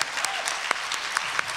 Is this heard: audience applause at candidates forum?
yes